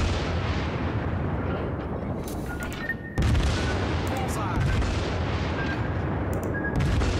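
Battleship gunfire in the naval video game World of Warships, played aboard the Kongo, rumbles as dense continuous booming and crackling, with a sharp fresh blast partway through.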